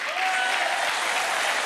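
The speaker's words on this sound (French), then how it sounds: "Applaudissements." Dense applause from a French TV studio audience at a comedy evening in Pigalle, a loud continuous wash of many hands clapping with a brief tone at the start.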